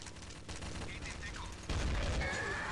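Gunfire in the video game Counter-Strike: Source, a dense continuous burst of rapid shots that grows louder about halfway through, with a faint voice mixed in underneath.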